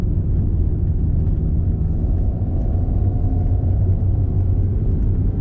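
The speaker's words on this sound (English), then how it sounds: "the combustion even, and the turbo whistling and everything right behind your shoulder" Steady engine drone and turbo hum of a 2019 Alpine A110 heard from inside the cabin while cruising, a loud continuous low rumble with no talking.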